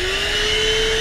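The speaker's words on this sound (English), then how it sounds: "plug this portable vacuum on the cigarette socket" A portable 12-volt car vacuum cleaner, plugged into the cigarette lighter socket of a Toyota Corolla, runs with a loud, steady motor whine and rising hum, heard alone for about a second.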